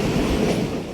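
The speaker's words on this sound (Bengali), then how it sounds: "তো আমাদের ট্রেন চলে আসছে" A train rolls into a station on the Halsha to Ishwardi route, a steady, loud, low rumble of wheels and carriages that holds evenly throughout the second.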